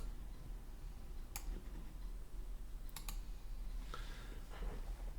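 Computer keyboard keys pressed while modelling in Plasticity, a few sharp, faint clicks spaced apart, one single tap followed by a quick double, over a quiet steady background hum.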